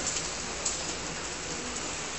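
Steady rain falls on a Florida afternoon outside a condo in Orlando, a constant, even hiss of fairly loud downpour with no talking.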